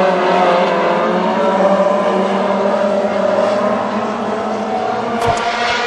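WISSOTA modified race cars roar together at Granite City Speedway, a loud, steady blend of engines holding a continuous drone as the pack comes off the final corner, with no talk over it.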